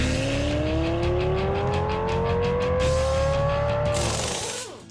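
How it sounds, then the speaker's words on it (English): Street-legal cars race flat out on a public Nevada desert highway. A screaming engine climbs steadily in pitch as it nears, roars past close by, then fades, with a faint squeal at the end. "the Nevada desert and the surrounding hills roared with the sounds of screaming engines"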